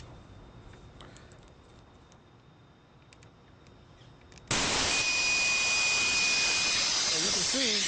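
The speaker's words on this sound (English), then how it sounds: "I'm going to use shop air to create a vacuum on this system." Shop compressed air suddenly bursts into a loud, steady hiss after a quiet stretch, drawing a vacuum on a car's cooling system and continuing unbroken to the end.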